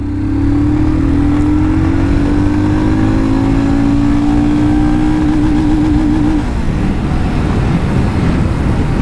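A Royal Enfield Scram 411 motorcycle pulling hard in second gear, its engine note rising steadily and loudly for about six seconds before easing off into wind and road rush.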